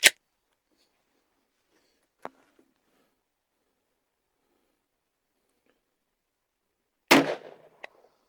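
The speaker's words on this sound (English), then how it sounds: "We're going to shoot another 5-shot group at the bottom left target." Handloaded 10mm pistol rounds with an 8.2-grain powder charge fired in a five-shot group: a sharp crack opens, a faint pop follows at two seconds, then a louder ringing shot near the end with a brief echo, surrounded by quiet.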